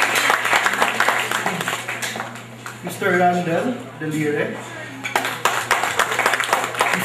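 Graduates receive audience applause at a ceremony, with steady clapping at the start and end around a man's spoken announcement in the middle.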